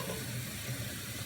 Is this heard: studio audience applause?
no